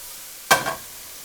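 Vegetables softening and browning in a pan for Japanese spaghetti give a single brief burst of sizzle, as if stirred, close and moderately loud, then fading back to quiet.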